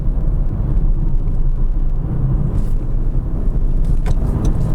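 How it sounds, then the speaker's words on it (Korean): Honda CR-V Hybrid SUV driving on a racing circuit, a steady loud broadband road and engine rumble with wind noise, heard from inside the car. "CR-V 하이브리드와 함께 이제 KIC를 좀 달려보도록 할게요."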